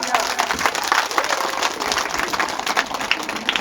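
Audience at a Hindu Shiv Puran religious discourse gathering claps loudly and continuously, a dense sustained round of applause with crowd noise throughout.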